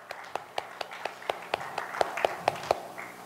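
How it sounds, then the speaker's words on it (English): Clapping during a church service as mothers in the congregation stand to be recognized: about a dozen crisp, evenly spaced claps in a steady quick rhythm, close and prominent over a faint hum of room noise, with no talking. "Come on, I want to clap for you."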